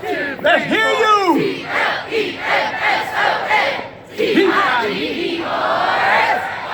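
A large crowd chants the C-L-E-M-S-O-N cadence count together in a steady, rhythmic cadence, voices rising in loud unison bursts that echo across an open space.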